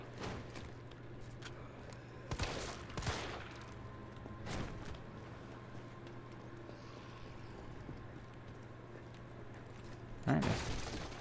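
Gunfire in the video game Resident Evil 3 Remake, a few scattered loud shots with a burst near the end over quiet game ambience.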